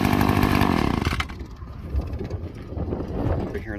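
A drywasher machine's engine runs a little above idle outdoors. A loud, buzzing drone rattles the hose nearby, then drops to a lower, rougher running sound mixed with wind noise.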